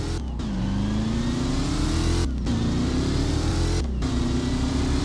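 A car in the Driving Empire game revs hard through three rising gear pulls, each cut by a brief shift gap, loud and continuous with no talk.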